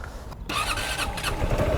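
Automatic motorcycle at a driving school lesson, the engine revving up loudly and close after a brief pause, holding a raspy steady drone.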